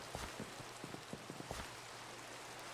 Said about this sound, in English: Just slept, so we can't stop that rain.